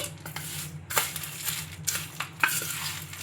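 A spoon stirring a chana dal mixture with fried curry leaves and garlic in a pan, giving repeated scraping and mixing strokes at an uneven rhythm, close and moderately loud over a low background hum.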